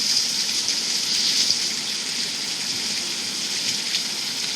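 Steady, dense video game rain hiss fills the whole stretch, an even wash of falling water with no voices and no breaks.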